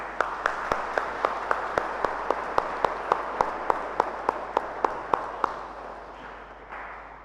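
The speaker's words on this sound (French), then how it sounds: "Je pense qu'il mérite nos applaudissements." A congregation at a Saturday mass at St Patrick's church applauds in a slow, steady, rhythmic clapping, crisp regular beats over a soft room wash that fade out near the end.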